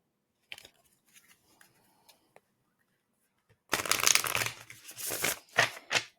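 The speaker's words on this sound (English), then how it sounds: "We'll do one more shuffle." Oracle cards being shuffled, starting with a few soft, sparse handling taps, then a loud, close flurry of riffling and flapping that comes in two dense bursts.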